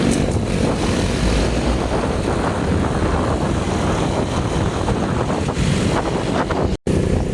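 A Honda Wave 100 motorcycle climbs uphill on Santa Rosa Road toward Tagaytay at night. A steady engine drone is buried under loud, constant wind buffeting, with a brief dropout near the end.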